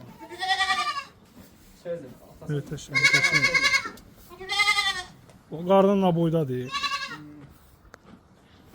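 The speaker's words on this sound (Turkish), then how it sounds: "Keçilərin səsi götürüb buranı." Goats bleat on a farm among many goats and kids, several loud wavering calls coming in bursts close by, with a voice speaking between and under them.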